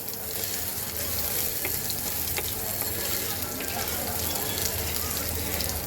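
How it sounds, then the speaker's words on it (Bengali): Continuous sizzling of crushed ginger frying in hot oil, a steady crackling hiss close by, with occasional small pops. "তো আদাটা এখন একটু ভাজবো"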